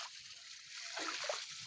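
Water running from a pipe into a large storage tank fed from an uphill source, a steady broadband rush with a brief louder splash partway through, close by with no talk.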